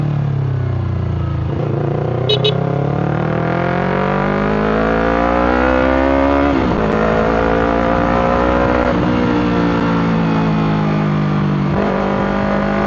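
A loud Yamaha R3 motorcycle engine revs up and down repeatedly, its throaty exhaust roaring close by and continuously, with no talking.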